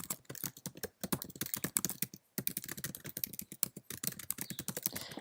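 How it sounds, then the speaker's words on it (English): Close, quiet typing on a computer keyboard: fast, irregular clicking keystrokes in bursts with a couple of brief pauses, and no talking. "and you just start typing."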